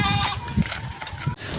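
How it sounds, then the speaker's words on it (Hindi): A two-tooth breeder goat for sale at a livestock market bleats in a few short, wavering calls close by, with some background noise and no speech. "ये एक 2 दांत बकरा है, फॉर सेल है। खूबसूरत कलर में ब्रीडर बकरा है"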